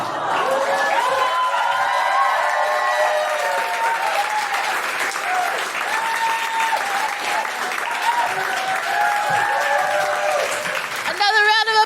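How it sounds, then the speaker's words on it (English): A comedy club audience applauds loudly and steadily for a comedian at a live stand-up show, with whoops and cheers layered over the dense clapping, which holds for nearly twelve seconds before a brief flurry at the end. "Another round of applause for Leila Navabi!"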